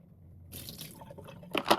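Tap water running over sprouting radish and lentil seeds for a rinse, a soft patter that starts after a quiet half second and builds to brief louder splashes near the end, with no talk.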